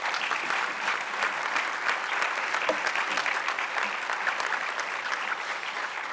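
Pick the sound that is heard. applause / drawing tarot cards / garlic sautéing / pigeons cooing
applause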